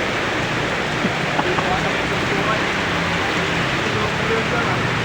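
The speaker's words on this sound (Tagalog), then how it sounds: "Napakalakas po ang ulan dito sa Taguig Western Bicutan." Steady, dense typhoon rain in Western Bicutan, Taguig, pours down continuously, a broad hiss with faint patters, while a voice speaks over it.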